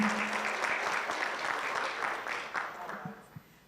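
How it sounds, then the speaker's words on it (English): Applause for Wangoi and Dan at a sustainability Q&A session, a steady round of clapping from a modest group that tapers off toward the end. "So let's also give them a round of applause"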